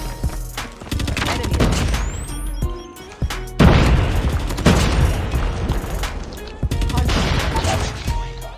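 Rapid bursts of Kilo 141 assault rifle fire in a video game, loud and close, with short pauses between volleys and clattering impacts mixed in.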